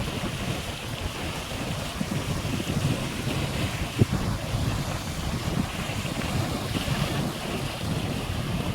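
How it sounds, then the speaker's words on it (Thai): The Mekong River's strong current rushes over rocks, a loud, constant roar of churning water with wind buffeting the microphone throughout. "น้ำไหล แรงมากนะคะกระแส น้ำพัดแรงมากนะคะ"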